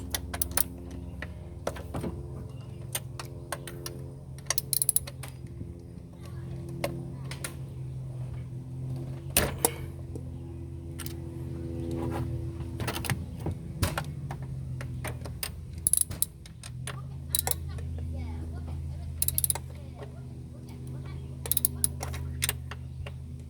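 A hand ratchet on the throttle body bolts of a Toyota engine clicks in short bursts of rapid pawl ticks, near and crisp, over a low steady hum with a few sharper knocks between bursts.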